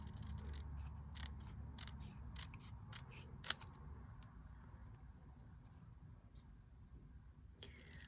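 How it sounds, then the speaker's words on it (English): Scissors trim a thin paper strip for a handmade card: a quick series of crisp, close snips at a regular pace, then a pause and a few softer cuts. "So just trim it down with a pair of scissors."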